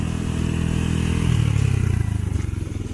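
A mini buggy's small engine accelerates with a steady, buzzing drone that climbs slightly and rattles with a light clatter, loud and close throughout with no talk.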